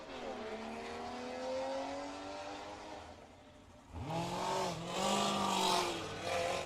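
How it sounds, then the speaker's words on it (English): A GT4 race car on an autocross course at Laguna Seca, its engine note climbing through the gears, then a louder close pass with rising revs and a brief tire squeal. "As we see Josh Cummings on track right now, the GT4."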